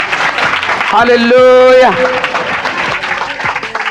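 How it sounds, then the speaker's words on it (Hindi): A church congregation claps loudly in steady, dense applause as a man calls out over it and sustained singing swells through the middle. "जोर से ताली बजाकर प्रभु को धन्यवाद करें।"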